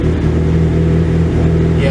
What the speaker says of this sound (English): I'll let it run for a second and see if it drops to that weird idle